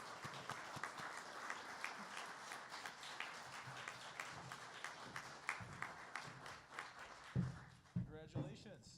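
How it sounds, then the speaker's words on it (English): An audience at an awards ceremony claps steadily for a winner, a sustained round of applause that is fairly faint and distant, ending as a voice starts to speak near the end. "Let's give her a round of applause."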